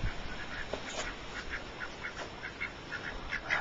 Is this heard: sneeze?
no